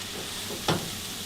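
Ground beef for sloppy joes sizzles and fries in a pan, a steady close crackle with one brief louder scrape of stirring partway through.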